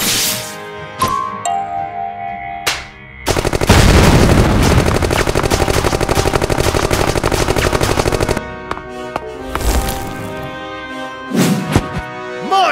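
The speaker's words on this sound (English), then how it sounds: "They catch Thor by surprise by showering him with bullets and" Animated gunfire and explosion effects: a long, rapid burst of loud machine-gun fire, followed by a few sharp blasts and hits, with music playing throughout.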